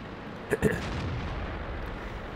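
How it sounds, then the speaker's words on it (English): A tank cannon fires in the World of Tanks video game, a brief muffled boom over steady background engine and battle noise. "Put another shot in, and that's it."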